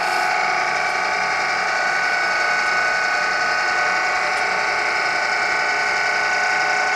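The arm of a used Willis-Bergo radial drill with a 4-foot arm and 12-inch column is lowered on its column, making a continuous loud mechanical gear-driven whirring and ratcheting hum, uninterrupted and without speech.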